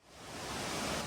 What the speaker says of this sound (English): The only twin waterfalls on the island